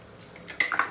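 Egg is mixed with chopped green chili, onion and salt in a bowl: after near silence, a few quick, sharp clinks of utensil against dish ring out close by and fairly quietly.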